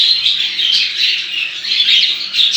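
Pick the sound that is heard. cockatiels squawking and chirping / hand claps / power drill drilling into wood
cockatiels squawking and chirping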